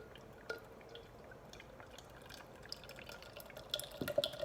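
Murphy's Stout poured from a can into a glass: a soft, faint trickle and dripping splash that builds toward the end, with no talking.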